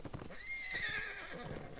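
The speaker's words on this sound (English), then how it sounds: "talk to Radagast's horse" Radagast's horse in the video game LOTRO lets out a close, clear neigh and whinny, with hooves clip-clopping underneath.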